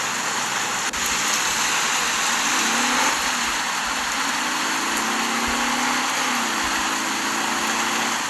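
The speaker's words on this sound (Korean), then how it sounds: "번개 소리가 납니다" Steady heavy rain hisses continuously in a mobile 3D driving game, with a low engine-like rumble underneath and faint tonal hums; no distinct thunderclap stands out.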